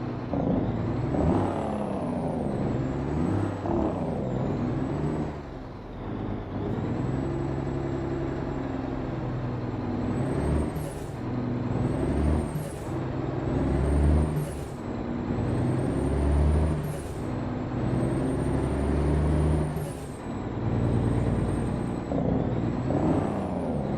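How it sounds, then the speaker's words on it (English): A heavy Greyhound-style bus engine in American Truck Simulator drones steadily throughout, with repeated sharp hissing bursts of air brakes releasing, close and loud. "The typical Greyhound bus sound that you're used to."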